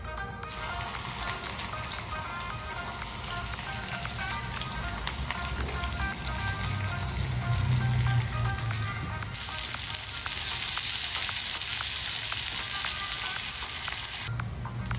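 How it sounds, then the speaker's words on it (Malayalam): Steady, dense sizzling of shallots frying in hot oil, continuous and fairly loud, with faint clinks now and then and no talking. "അതായത് ഇഞ്ചി അരിഞ്ഞെടുത്ത അതേ അളവിൽ കുഞ്ഞുള്ളിയും കൂടി വറുത്ത് കോരാം"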